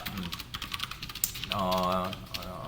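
Rapid clicking keystrokes on a computer keyboard while writing Python code, a steady patter of close taps with someone speaking partway through.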